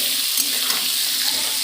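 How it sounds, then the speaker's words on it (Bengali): Potatoes sizzling steadily in hot oil in a pan, a continuous close hiss with light stirring and no voices. "একটু লাল লাল হয়ে আলুটা ভাজা হয়ে গেলে তুলে নেব"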